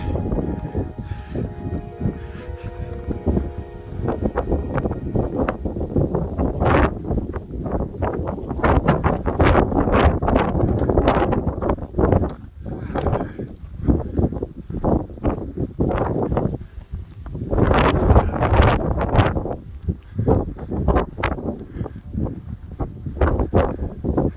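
Strong wind buffets the microphone on a Scottish mountain summit, coming as loud, gusty, rumbling bursts that rise and fall throughout with no voices.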